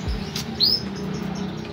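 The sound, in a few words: imported canary chirping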